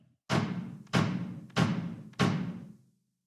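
Four heavy accented heel-up bass drum kicks, evenly spaced and evenly loud, each a deep punchy thud with a short ringing tail, played alone.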